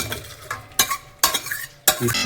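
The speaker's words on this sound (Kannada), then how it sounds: "ಈಗ ಇದನ್ನ ಪಾತ್ರೆಗೆ ಹಾಕೊಳ್ತಾ ಇದ್ದೀನಿ ಓ ಕಡಾಯಿ ಪಾತ್ರೆ" Cooked sprouted horse gram is spooned into a kadai pot, giving four sharp metallic scrapes and clanks at irregular intervals over a soft background hiss, with no talking.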